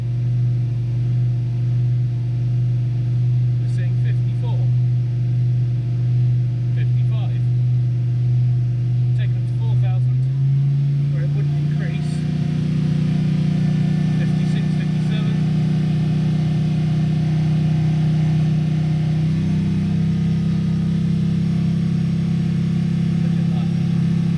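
A car engine holds a steady hum at 3000 RPM during an oil pressure check, with the tone stepping up in pitch partway through and continuing as a constant drone under speech.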